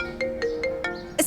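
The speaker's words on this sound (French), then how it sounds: "C'est mon téléphone qui sonne." A mobile phone ringtone plays a short repeating electronic melody of bright tones, several pulses in quick succession, fairly loud and close with no one talking over it.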